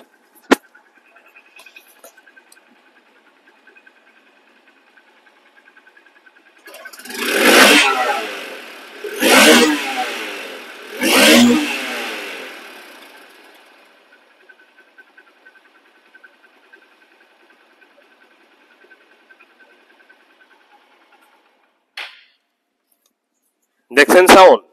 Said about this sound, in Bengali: দেখেন সাউন্ড রানিং অবস্থায় আছে ইঞ্জিন,